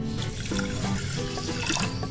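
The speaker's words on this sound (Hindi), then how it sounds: "अब इसमें हम पानी ऐड कर लेते हैं। पानी जो है मैंने 1/2 कप लिया है।" Water is poured into a pan to make sugar syrup for sweet gulgule, a close, splashing trickle that runs continuously for a couple of seconds.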